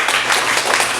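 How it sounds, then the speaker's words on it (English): Audience at a poetry reading in a bar breaks into dense clapping, a brief loud burst of many hands filling the room with no voice over it. "You can fucking clap for that."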